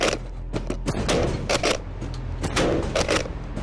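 Shotgun gunfire during close quarter battle training, a quick string of loud sharp blasts following one another over a dense, noisy background.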